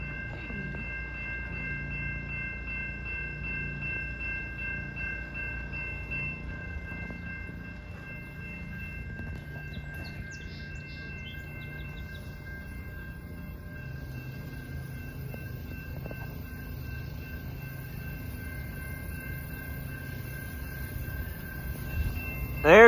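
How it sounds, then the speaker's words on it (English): A GO commuter train pulls into Newmarket GO Station, its low rumble and rolling rail noise building steadily from a distance over twenty seconds, with a faint horn-like tone and a sudden loud burst right at the end. "Yep, here comes the train."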